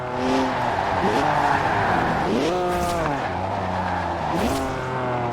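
A BMW 1M with a 3-litre twin-turbo straight six, driven in Forza Horizon 4, drifting with a loud engine whose pitch rises and falls through gear changes and steady tire squeal.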